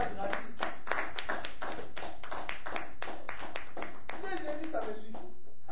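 A church congregation claps together in quick, rhythmic hand claps, a steady run of sharp beats for several seconds, with voices mixed in.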